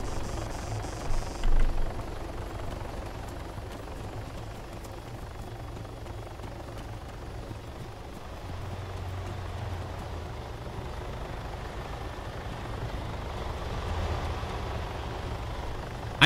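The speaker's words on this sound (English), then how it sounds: "that fucking heli's been chasing us for the past year and a half" A helicopter in the Arma 3 Altis Life game drones steadily overhead, a continuous low rotor and engine rumble filling the whole stretch at fairly close range, with no talking.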